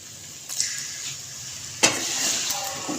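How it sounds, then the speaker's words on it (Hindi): A few spoonfuls of water hit potato masala and chilies frying in a hot pan, giving two sharp sizzling bursts over a steady background hiss. "फिर 2 से 3 चम्मच हम पानी के डालेंगे, ताकि जो हमने मिर्चें डाली हैं वो जले नहीं।"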